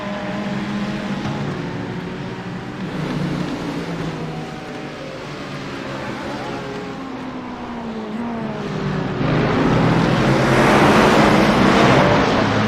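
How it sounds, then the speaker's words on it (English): GT race cars at Mount Panorama in a sim racing game roar past with rising and falling engine whines and rattling bumps over ripple strips, building louder toward the end. "Watch the cars absolutely smash over the ripple strips there"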